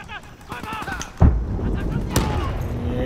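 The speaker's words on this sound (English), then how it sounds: "Yeah, that's what we're gonna do, throw grenades." Two heavy grenade explosions in Call of Duty Black Ops 3, each a loud booming hit about a second apart, following brief talk and leaving a rumbling battlefield din.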